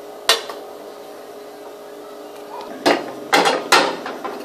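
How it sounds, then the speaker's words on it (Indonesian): Squid stuffed with tofu in a yellow spice sauce, stirred in a pan: a few sharp, close metallic clanks and scrapes of a utensil against the pan, spaced apart, with quieter background between them. "Aduk-aduk hingga merata ya"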